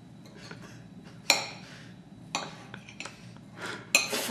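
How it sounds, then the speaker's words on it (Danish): A knife clinks and scrapes against a plate while cutting a burger in half, giving a few sharp metallic taps between quieter scraping, close and fairly faint, with no talk. "Jeg tager nu og skærer den midt over."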